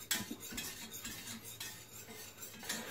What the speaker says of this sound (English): Just still stirring until I'm ready to return that pan to the heat